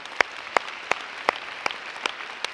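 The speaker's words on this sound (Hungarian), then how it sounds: "egy nagy tapsot megérdemlünk" Sparse clapping closing a 90-minute workout session, about seven distinct, evenly spaced claps ringing out alone over a quiet room.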